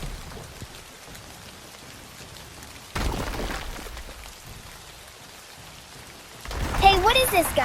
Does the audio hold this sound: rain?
yes